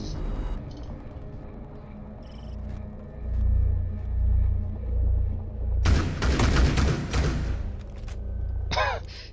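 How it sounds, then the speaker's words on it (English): Gunfight in a competitive shooter match, with sustained low rumbling gunfire and a sharp broadband burst of shots near the middle, followed by a brief electronic sweep at the end. "And the Blackbeard will win the gunfight in the end"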